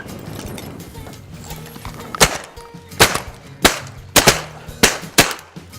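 Six sharp gunshots ring out at irregular intervals, loud and close, over a scratchy outdoor background.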